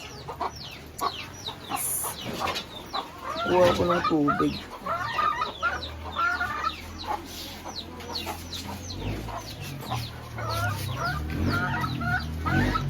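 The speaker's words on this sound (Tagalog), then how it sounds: "Andito yung mga manok ko" Chickens cluck outside near a home, with repeated clucks and squawks mixing with a person speaking Tagalog nearby. Some rustling and handling noises come in between, and the birds stay fairly close and clear.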